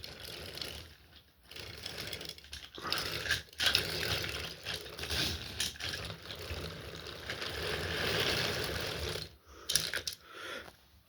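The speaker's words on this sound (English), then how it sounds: "The engine gets pushed down the hill" Model train engine pushed down a hill by a banker engine, an LNER A1, giving a steady mechanical whirring and clicking of wheels and gears that runs on for several seconds with brief gaps, fairly close and alone.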